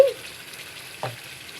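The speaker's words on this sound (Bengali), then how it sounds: "এখন আমি এই সময় আমি ঘি দিয়ে দিচ্ছি" Ghee meets a pan of semolina halwa cooked with milk, giving a soft steady sizzle as it is stirred, with a brief scrape of the spoon partway through, close and alone without speech.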